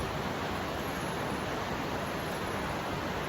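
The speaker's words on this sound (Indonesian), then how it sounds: "Kedengaran ya bunyi sungai kayaknya." River rushing through forest on the trail from Manakili village toward Mount Rorokoan; broad, steady water roar that stays loud and constant with no voices.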